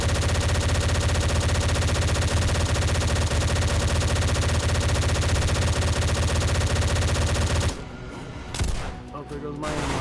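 Dense, sustained gunfire from a DayZ firefight pounds loudly and continuously, then cuts out abruptly near the end, leaving a couple of scattered bursts and game noise.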